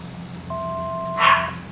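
Dogs bark once in the background, a short yip-like bark rising over a steady electronic hum and a brief beep tone.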